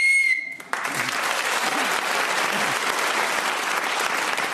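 A short, sharp whistle blast ends a round on the radio panel game Just a Minute, and a studio audience immediately breaks into sustained applause.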